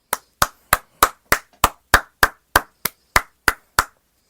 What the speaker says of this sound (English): As always, we should clap it up on the podcast.